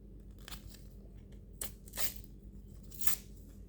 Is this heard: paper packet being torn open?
yes